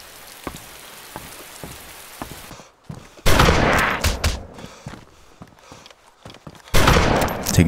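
An MP-133 pump shotgun fires in the zombie survival game DayZ, with two loud, close blasts booming out among smaller scattered clicks and impacts.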